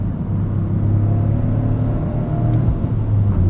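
A 2023 Toyota GR Corolla's engine drones steadily from inside the car while driving around town, a continuous low rumble with a faint whir, no speech over it.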